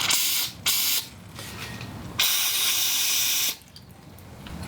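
Carb cleaner forced out of a motorcycle fuel injector hooked to a battery, loud hissing bursts that start and stop abruptly, a short one, then two longer spurts separated by quieter gaps.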